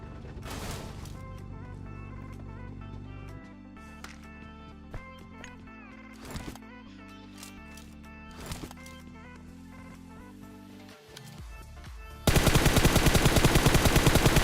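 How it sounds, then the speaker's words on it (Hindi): Battle royale video game gunfire: several sharp shots and short bursts crack over a steady game soundscape with music, ending in a loud, dense burst of sustained noise. "पीछे फायरिंग चल रही थी"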